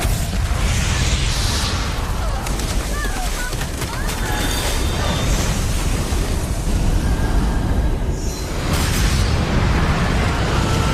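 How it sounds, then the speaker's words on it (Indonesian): A huge explosion from a film shakes a whole mountain, heard as a loud, continuous roaring blast with deep rumble and debris noise filling the clip. "sebuah ledakan dahsyat pun mengguncang seluruh gunung"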